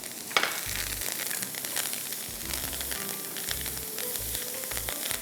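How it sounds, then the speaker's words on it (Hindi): Cashews, almonds and other nuts fry in butter with ginger and garlic, a steady close sizzle and crackle running throughout with a few low bumps from the pan, no voices. "Let the nuts fry, nuts को थोड़ा सा मक्खन में फ्राई कर लीजिए।"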